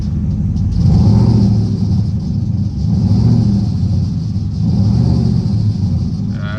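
A turbocharged Coyote V8 in a Foxbody Mustang idles loud and close while warming up, a deep steady rumble that swells gently in slow waves with a faint whine above.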